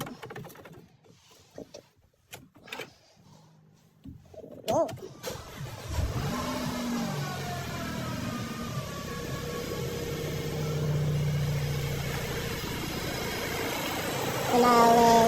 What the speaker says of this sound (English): I always start the car to check if it's not leaking and if everything is okay.